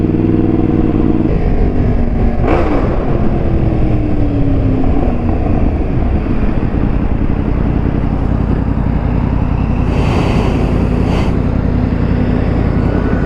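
Exhaust of a Yamaha FZ10 motorcycle roars loud and close, a constant heavy drone with the engine note shifting and swelling, plus brief rushes of wind, with no one speaking.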